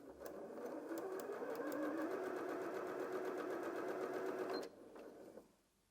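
A Janome M100QDC sewing machine stitches fabric at a steady, rapid, even whir for about four and a half seconds, then stops, leaving a faint hum that fades out.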